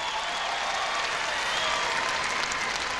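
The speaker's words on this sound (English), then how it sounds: "Big sound from the crowd on the Standard." At a dog show, a crowd applauds steadily with dense, continuous clapping that stays fairly loud and even from start to finish.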